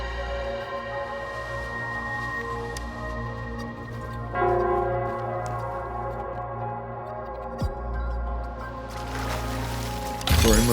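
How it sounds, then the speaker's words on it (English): A bell rings in the Wuthering Waves video game, its sustained, resonant tones layered over a low ambient drone, swelling louder midway and joined by a brief noisy burst near the end. "It's the bell."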